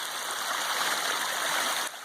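River water rushes beside a hiking trail on the Appalachian Trail, a loud, steady broadband roar close by that drops slightly at the very end.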